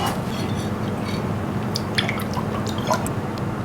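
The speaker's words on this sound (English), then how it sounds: "So now we just pour it in." Cooled panna cotta mixture being poured from a measuring cup, a continuous soft liquid trickle with small wet drips and splashes, close and steady with no talking.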